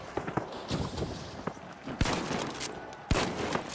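Model 1887 lever-action shotgun shots in The Finals, with two heavy booming blasts about a second apart over busy game noise and scattered smaller impacts, moderately close.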